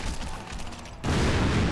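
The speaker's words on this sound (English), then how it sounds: "Got some nice little physics explosions there." An explosion bursts in the open-world action game Crackdown, a sudden loud blast that cuts in after a stretch of rattling gunfire and leaves a broad rumble.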